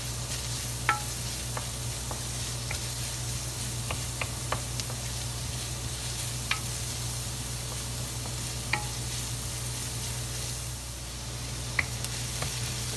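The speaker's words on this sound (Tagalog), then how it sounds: "At pwede na po natin ilagay itong ating bawang, at atin lamang po itong gigisain at hintayin pong maluto ng lubusan." Garlic and onion sauté in a hot pan for a Kapampangan pork blood stew, giving a steady close sizzle with frequent sharp clicks and scrapes of stirring throughout, with no talking.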